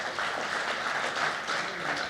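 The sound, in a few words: audience applause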